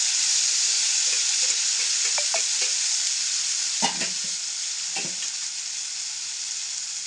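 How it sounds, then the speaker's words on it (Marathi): Cut tomatoes tipped into hot oil with crackling mustard seeds: a loud, close, continuous sizzle with a few soft stirring knocks and spatters. "मी त्यात टाकते कट केले टमाटर"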